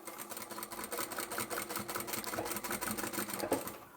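A sewing machine runs steadily, double-stitching across the folded pocket of a fabric picnic placemat with a cutlery divider, a fast close mechanical whir with faint clicks, quiet and without talking.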